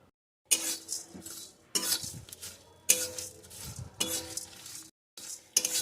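A spoon stirs fennel seeds, cumin and other whole spices as they dry-roast in a kadai. About five distinct scraping passes come at a slow, even pace with a light sizzle, close and clear.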